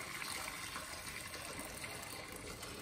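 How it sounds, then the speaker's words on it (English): Hot water pours steadily into an Instant Pot with a bowl holder inside, a continuous rushing, splashing fill that stays close and even throughout, with no talking. "pour hot water all the way passing number one"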